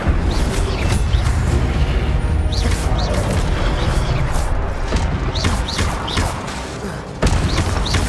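An Incendio fire spell is cast during combat in Hogwarts Legacy on PS5, with loud, dense bursts of whooshing fire and booming impacts that repeat over a constant roar of game effects.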